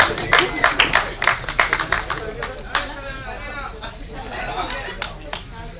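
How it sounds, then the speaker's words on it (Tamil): At the Siva Sambo movie audio launch, the audience claps in a quick, uneven flurry of crisp hand claps for a couple of seconds, then it tapers to a few scattered claps as a voice speaks over the hall. "பிஆர்ஓக்களுக்கு கைத்தட்டுறாங்க"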